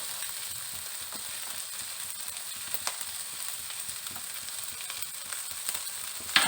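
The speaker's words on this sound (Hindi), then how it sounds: "हमने वेजिटेबल को ज़्यादा कुक नहीं करना, सॉटे करना है।" Chopped vegetables and cabbage sauté in a hot pan for chicken vegetable pasta, making a continuous close hiss and sizzle with occasional light stirring scrapes and taps, no talking over it.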